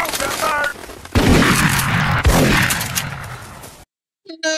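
Movie gunfire in the 1999 film Life sounds as a dense, loud burst of overlapping shots lasting several seconds. Heavy low thumps are mixed in, and the burst ends in a short silence before a voice is heard.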